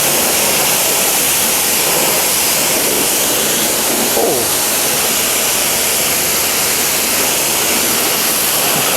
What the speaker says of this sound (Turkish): Şimdi işin yıkama aşamasına geçtim.